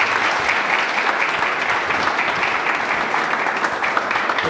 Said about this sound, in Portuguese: Acho que merece uma salva de palmas de novo.